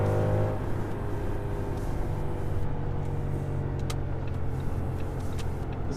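Audi S8 accelerating on a freeway in sport mode, a steady, full engine and road roar heard from inside the car, continuous and fairly loud with no speech.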